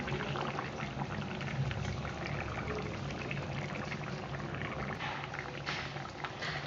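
A pot of hilsa fish curry with tomato bubbles at a steady boil, a dense close bubbling and gurgling that runs continuously with no talk.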